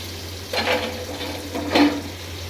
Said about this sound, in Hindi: हल्का ही मसाला फ्राई किया था, सिर्फ लाल मिर्च, हल्दी, नमक मैंने ऐड किया है